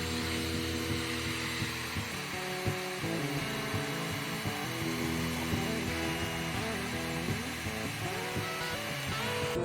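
A vacuum cleaner and a blower run together, forcing air through the frame rail of an early Ford Bronco, a steady droning whine with shifting motor tones and no speech.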